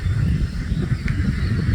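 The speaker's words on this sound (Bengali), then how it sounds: "এই যে আমাদের এই পাতি হাঁস, এখানে প্রায় 4 থেকে 5 হাজার পাতি হাঁস" A dense crowd of thousands of domestic ducks on a farm quacking and honking together, a steady noisy chorus with no pauses, close by.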